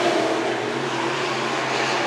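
Race cars at Worthington Speedway roar past in a sustained, loud engine drone during a dirt-track event with bombers, sport compacts and modifieds, heard alone without talk.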